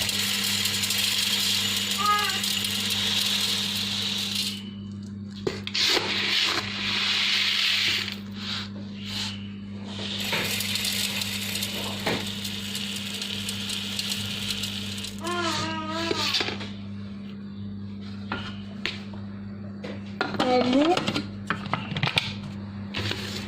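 300 g of durum wheat grains poured into a kitchen machine, a steady rattling hiss of grains with scattered clicks and clatters, with a person talking over parts of it.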